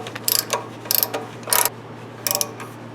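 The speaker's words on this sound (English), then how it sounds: "I'm going to put a deep socket in here, a 3/4 inch deep socket, and tighten her down." Ratchet fitted with a 3/4 inch deep socket tightening a fastener during a carburetor-to-fuel-injection engine conversion. Four crisp clicking bursts come evenly spaced and close up, with a low steady hum underneath.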